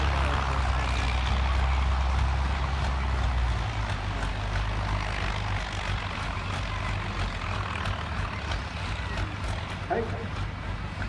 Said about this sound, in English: 3-speed David Brown engine.